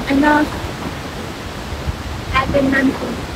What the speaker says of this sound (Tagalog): yung agos ng tubig